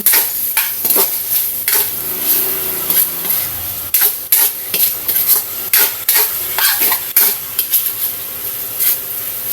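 Shrimp paste tipped into garlic, onion and tomato frying in a pan: a loud, steady sizzle with repeated scraping and stirring clatters throughout.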